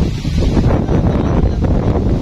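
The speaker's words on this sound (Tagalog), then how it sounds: "Kapakalakas ng hangin." Strong wind buffeting the microphone in loud, roaring gusts, with a rustling rush over a constant low rumble.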